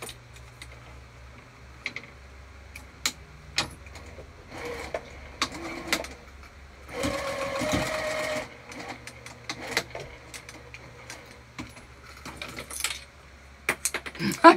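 Sewing machine stitching across the folded straps of a crossbody bag, with a stretch of close, rapid whirring stitching amid scattered clicks and handling noises.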